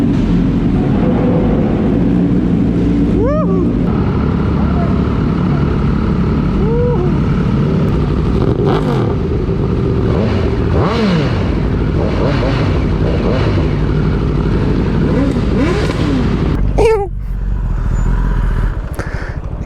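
Motorcycles pull away at the Istanbul Park racetrack, their loud engine drone rising and falling with revving passes. The sound is close and continuous, with people talking over it.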